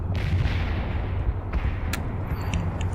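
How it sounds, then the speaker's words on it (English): Artillery strike explosions in the real-time strategy game World in Conflict, a steady rumbling barrage of low booms and shell blasts, loud and continuous for a few seconds. "Artillery strike completed."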